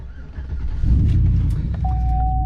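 A truck engine cranks and catches, a low rumble building into a steady idle, with a thin high whine holding near the end.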